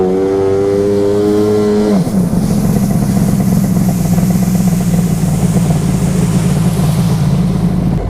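A Sea-Doo XPL 951 two-stroke engine, fitted with Mikuni Super BN 46i carburetors after re-jetting, drops from a high rev into a loud, steady droning run. The sound is close and continuous, with no voices.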